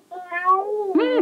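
A cat meows twice in close succession, the first a drawn-out, wavering meow and the second shorter and rising, loud and close with no background sound.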